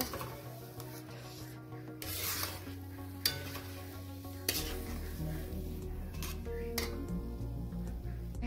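Semolina batter cooking at medium heat in a pan, stirred steadily with a utensil; soft scraping and faint bubbling strokes repeat under a low background hum, with a few sharper knocks against the pan.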